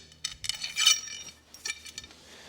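A metal washer clinks onto a bolt on a homemade striper rig for an Ariens zero-turn mower, giving a few sharp close metallic taps and scrapes with a short pause between them.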